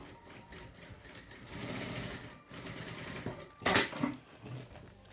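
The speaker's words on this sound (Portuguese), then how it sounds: "E vou começar a costurar em cima das minhas linhas, certo? Na minha máquina aqui" A home sewing machine runs close up, quilting stitches along marked lines on fabric with a medium stitch length, a steady fast whirring rattle that speeds and slows, pausing briefly midway before a sharp click.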